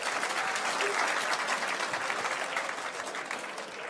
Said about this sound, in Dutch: En ik wil nog heel graag een heel groot applaus voor Anke Bielsma.